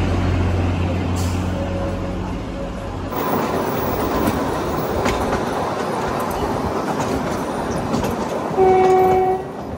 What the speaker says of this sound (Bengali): ফাইনালি আমাদের ট্রেন এসে পৌঁছালো সিমলা রেলওয়ে স্টেশন